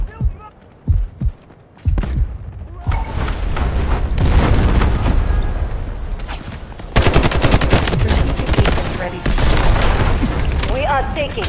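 Incoming artillery fire in the game Delta Force: Hawk Ops: a few sharp booms open, then a sustained, dense barrage of gunfire and explosions rolls on loudly, with voices partly buried in the battle noise.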